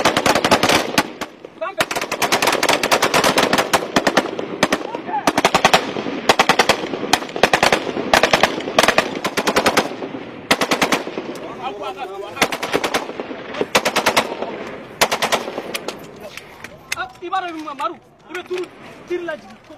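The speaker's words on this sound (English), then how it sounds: "the Malian soldiers lay down a wall of covering fire" Malian soldiers in a battle with jihadist fighters lay down covering fire, with dense bursts of machine-gun fire crackling in rapid volleys and short gaps, loud and close, while voices talk and shout between and under the shots.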